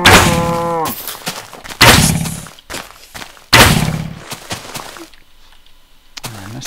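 A Minecraft cow mooing, several low, loud, drawn-out moos separated by short gaps, with a blocky, choppy game-sound texture.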